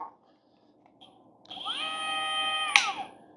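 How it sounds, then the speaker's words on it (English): A 1/4-inch die grinder in a home workshop spins up and whines steadily at high pitch for about a second and a half, then winds down, loud and close with no talking. "It's a die grinder, 1/4-inch die grinder"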